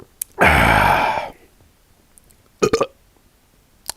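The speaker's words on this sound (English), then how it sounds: "was a terrible burp. I should be ashamed." A single loud, long burp lasting about a second, rough and low-pitched, followed by a pause and a couple of short, faint sounds.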